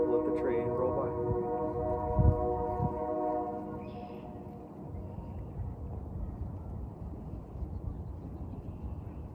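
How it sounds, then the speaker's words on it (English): A train rolls by outdoors, its horn fading out over the first few seconds into a broad, steady rumbling wash of wheel and track noise at moderate distance. "Let the train roll by."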